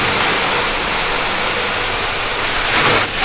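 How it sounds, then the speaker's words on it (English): Hose water rinsing soap off a car's painted panels, a loud, steady close spray hiss that runs unbroken throughout. "We're rinsing the soap off."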